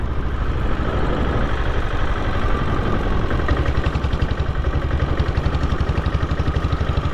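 A 1997 diesel Royal Enfield Bullet motorcycle engine runs steadily up close, with a continuous low thumping pulse and no speech.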